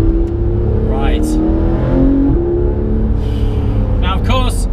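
A Porsche 991 GT3 RS engine drones steadily while driving in Tuscany, a loud close tone with shifting pitch, with brief voices and wind bursts over it.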